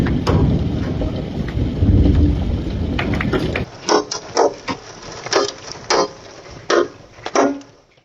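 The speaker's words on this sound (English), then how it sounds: "Playing in the hail." Oklahoma hailstorm: a loud, dense roar of stones and rain at first, then sharp, irregular thuds as hailstones strike a hard surface nearby, one after another.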